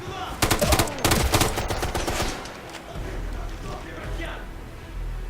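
Turret machine gun fire in the video game Ghost Recon Future Soldier: a dense burst of rapid shots in the first two seconds, then a steady low rumble of game ambience with scattered fainter shots.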